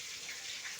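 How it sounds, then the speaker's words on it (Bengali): Water runs and splashes steadily into a bowl while chopped yardlong beans are washed, a short close hiss alone without voices. "তারপর একটা বোলের ভিতরে নিয়ে এগুলো পরিষ্কার করে ধুয়ে নিতে হবে।"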